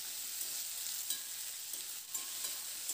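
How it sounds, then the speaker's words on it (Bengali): Tomato stirred with potato and onion frying in a pan gives a soft, steady sizzle with faint scattered stirring clicks, close but fairly quiet, and no one speaking. "এবার টমেটোটা দিয়ে কয়েক মিনিট সময় ধরে একটু নাড়াচাড়া করে নেব।"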